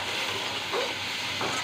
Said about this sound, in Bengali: মশলাটা একটু কষিয়ে নিয়ে